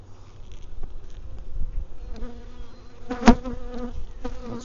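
Honey bees buzzing around an open hive during the early nectar flow in Wisconsin, a close, continuous hum with individual bees passing near and a louder swell midway.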